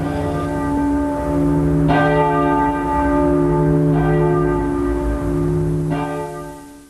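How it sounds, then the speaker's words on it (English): Peter, the prayer bell of Beverley Minster, weighing just over a ton and dating from 1360, tolls in four slow, evenly spaced strokes, each ringing out with a rich, sustained hum that overlaps the next. "The prayer bell, which is just over a ton, called Peter, has been rung daily for services since 1360"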